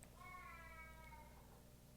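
A cat in the film Texas Chainsaw Massacre (2022) lets out a single drawn-out meow, faint and fairly distant over a low background hum.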